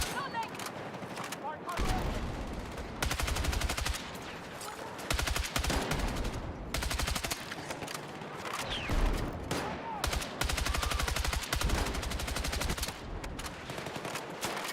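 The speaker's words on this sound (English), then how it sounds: "Firing a lot of shots." Battlefield 6 gunfire crackles in rapid, repeated automatic bursts separated by short pauses, loud and close, with a person talking faintly over parts of it.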